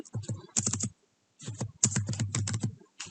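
Typing on a computer keyboard: quick clusters of crisp key clicks in short bursts with brief pauses between, close and distinct.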